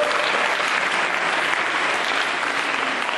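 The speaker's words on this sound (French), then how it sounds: "on applaudit très fort" Loud, sustained applause from an audience for a young performer, a thick, even roar of clapping hands filling the whole stretch.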